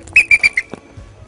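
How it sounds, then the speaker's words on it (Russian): A referee's whistle at a football match sounds four short, shrill, loud blasts in quick succession, followed by a soft thump, with no speech. "Судейский свисток дует,"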